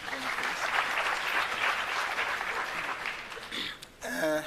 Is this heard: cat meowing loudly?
no